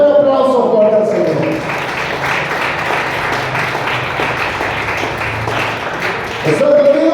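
A church congregation bursts into loud, sustained applause, dense clapping filling several seconds between bursts of a preacher's speech at the start and end.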